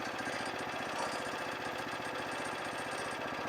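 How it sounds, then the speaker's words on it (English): Small engine of a Frontier portable sawmill running steadily, a rapid rhythmic chugging putter at constant speed, close and continuous throughout without voices. "now I'm going to stop the engine"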